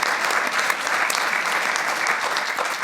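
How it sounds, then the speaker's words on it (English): Audience applause at a Besins Healthcare medical symposium, a loud, even wash of many hands clapping throughout, dense and sustained with no pauses. "A round of applause."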